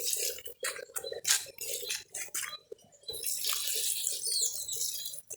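Water splashes and pours over plants during morning watering in Sulawesi: irregular close splashes and spattering bursts, then a steadier sustained pour toward the end, fairly quiet.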